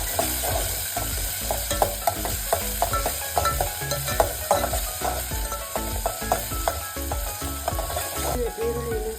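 Chopped onion frying in a pan, a steady sizzle punctuated by a regular run of spoon scrapes and clacks against the pan, close and fairly loud.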